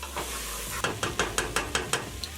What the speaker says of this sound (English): Just gonna mix everything together.